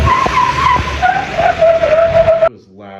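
A diesel prerunner truck with a welded differential slides on dirt, its tires letting out a sustained, wavering squeal over engine rumble for a few seconds before it abruptly stops.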